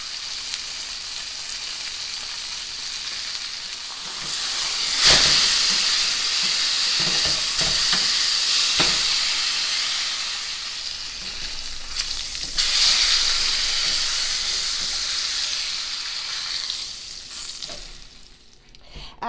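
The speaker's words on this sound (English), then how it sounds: "you're going to add your meat one at a time because we don't want it to steam, we want it to sear" Pork steaks sear in a frying pan with a loud, continuous sizzle and hiss, which swells sharply each time another piece of meat is laid in.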